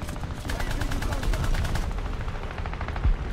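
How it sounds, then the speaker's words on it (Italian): Twin machine guns on an Italian Breda 501 armoured autocannon in War Thunder fire a rapid, steady rattling burst, loud and close, continuing for several seconds with a heavier thump near the end. "Sì ho la doppia, doppia mitragliatrice ma ho la scarica praticamente Molto breve"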